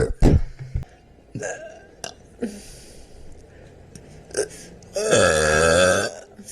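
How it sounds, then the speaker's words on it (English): Several short, close burps and gulps come in scattered bursts, then one long, loud, drawn-out belch of about a second near the end. "Burp."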